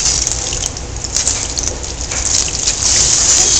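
Water runs and splashes steadily from a tap during a cat bath, a close, continuous gushing with no talk.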